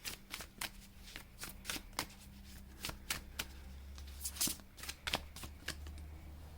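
Tarot cards being shuffled for a reading: a quiet, steady run of papery riffles and soft card slaps, close and alone, with a low constant hum underneath.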